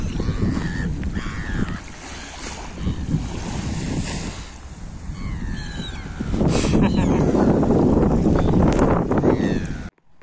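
Seagull calling near the shore at Falconara on the Italian coast, a few sharp cries rising over steady surf and wind, with louder waves washing in toward the end.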